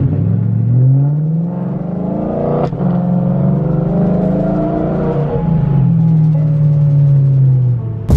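A BMW M4 engine revving, a loud rumbling tone that rises and falls over several seconds, heard close and alone.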